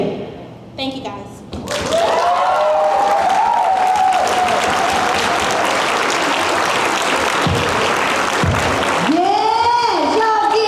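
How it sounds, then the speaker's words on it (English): Loud, sustained applause from a festival audience fills most of the clip, with a voice speaking briefly before it and another rising over the clapping at the end. "a big round of applause"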